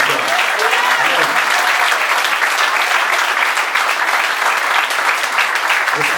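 Church congregation applauding together at a Sunday morning service, a dense, steady wash of clapping from many hands that fills the room from start to finish, with faint voices mixed in.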